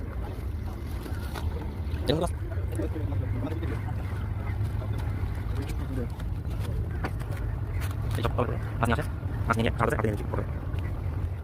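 A fishing trawler's engine drones steadily at low pitch throughout as it arrives with fish at Aricha, Bangladesh, while people talk nearby over the water.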